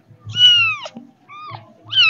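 Orange kitten meowing in short, high rising-and-falling cries, close and clear, with a second call after a brief pause and a third starting at the end.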